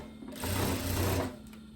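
A sewing machine topstitches a binding on a blouse, giving one sustained burst of rapid stitching hum that runs for about a second between quieter pauses.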